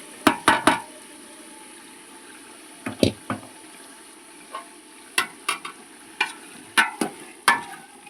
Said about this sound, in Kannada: ಶುಂಠಿ ಬೆಳ್ಳುಳ್ಳಿ ಪೇಸ್ಟು ಎಲ್ಲ ಮಿಕ್ಸ್ ಮಾಡ್ಕೊಂಡಿದ್ವಲ್ಲ, ರುಬ್ಕೊಂಡಿದ್ವಲ್ಲ, ಆ ಪೇಸ್ಟನ್ನು ಹಾಕೋಣ